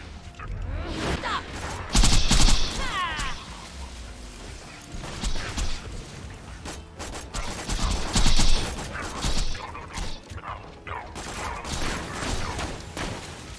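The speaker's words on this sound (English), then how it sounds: "this ion loader is shooting at me" Energy weapons fire from robotic loader enemies in a sci-fi shooter game, with rapid bursts, metallic clanks and impacts coming in loud clusters over about fourteen seconds, mixed with mechanical whirring.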